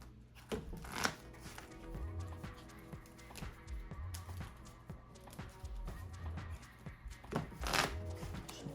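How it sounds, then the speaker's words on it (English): A Pokemon TCG deck is shuffled on a tabletop in repeated quick riffling bursts of card flicks, close and fairly quiet, with no talk. "Shuffle the deck."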